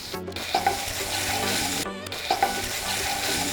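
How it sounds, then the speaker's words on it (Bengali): Onion and ginger-garlic paste fry in hot oil with a steady, close sizzle, broken by repeated scraping stirs of a utensil in the pan. "আদা রসুন বাটাটাকে দিয়েও ঠিক 2 মিনিট পেঁয়াজের সঙ্গে ভালো করে কষিয়ে নিতে হবে"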